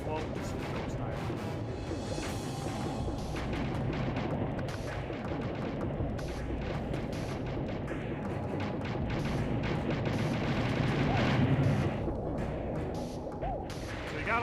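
Torpedoes launched in Pac-Man World 2, heard as a dense run of booming, crashing impacts over a steady busy game soundscape, growing somewhat louder toward the end.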